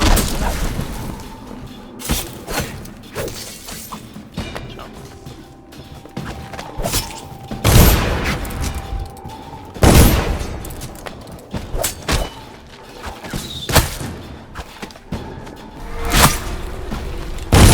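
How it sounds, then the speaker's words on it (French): Combat in the video game Dishonored: several heavy booming blasts and thuds burst at irregular intervals over a rumbling background, some loud and close, with crackling bursts between them. "Attention grenade."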